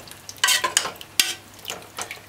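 Curried tripe and beans in a pot, with soft sizzling and several scraping stirs in irregular bursts, near and fairly quiet.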